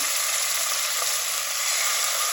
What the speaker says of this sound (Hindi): चिकन मैं आपको दिखाऊंगी आपने कैसे फ्राई करना है इसको